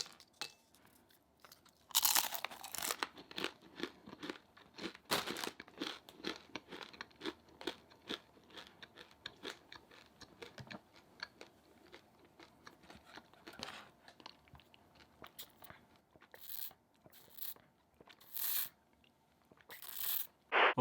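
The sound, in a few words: crunching and chewing Jamaican Top Crackers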